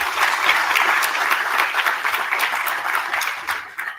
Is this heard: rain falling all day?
no